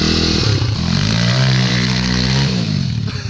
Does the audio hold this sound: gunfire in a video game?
no